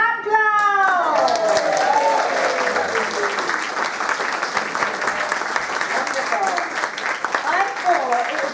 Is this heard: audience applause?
yes